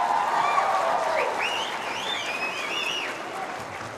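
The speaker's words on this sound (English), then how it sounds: "You don't have to clap for that." Audience clapping at an opening ceremony, a dense burst of applause with a few whistles, loudest at first and slowly easing off.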